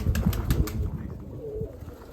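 Budapest pigeons in a loft give soft cooing and a brief flutter of wings, close and clear, with faint background rustle.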